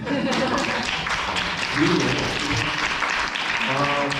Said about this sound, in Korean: 박수 한번 주셔야 됩니다